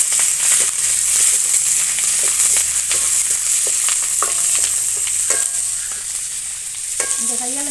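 Onion and green chillies frying with fennel seeds in a pan for a stingray fish curry, a steady close sizzle with scattered stirring clicks and scrapes throughout, no talking.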